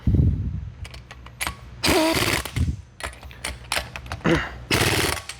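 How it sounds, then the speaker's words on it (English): A Harbor Freight impact wrench works on front suspension bolts of a box van in repeated loud, rattling hammering bursts with brief pauses between them, close up with no talk. "Yeah, this poor impact wrench got to work out."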